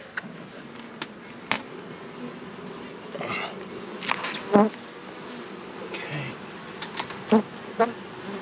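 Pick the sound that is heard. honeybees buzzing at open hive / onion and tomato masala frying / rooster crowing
honeybees buzzing at open hive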